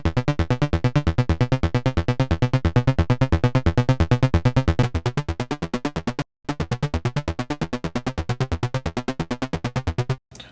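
Free synth plugin patch sent through a low-pass filter, heard as a loud run of rapid, evenly pulsing bass notes. The tone is somewhat darker and rounder than a raw buzzy sound, with a short gap near the end.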